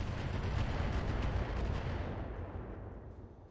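Mechs firing missile volleys in the RogueTech battle game: a dense, rumbling barrage of rapid bursts that holds loud, then fades out over a few seconds.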